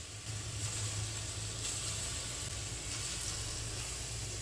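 Masoor dal flower fritters frying in oil over a low flame, giving a steady, close sizzle and hiss that runs unbroken from start to finish with no talk.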